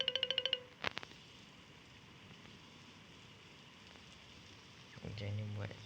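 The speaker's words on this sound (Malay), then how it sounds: "Hujan." Rain falling in the Roblox game Grow a Garden, a soft, steady hiss of droplets that runs throughout, with chiming game tones at the start and a short burst near the end.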